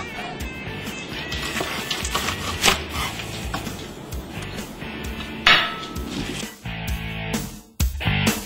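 Knife and metal utensils clattering against a plate while grilled Memphis-style ribs are cut up, with steady clinks and scraping, a few louder knocks and a brief dip near the end.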